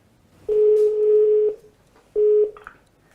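A telephone ringback tone sounds as a call goes through: a long steady beep, a pause, then a shorter beep, clear and close with no talking.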